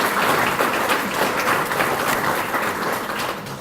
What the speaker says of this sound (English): let's give all our PROD scholarship recipients a round of applause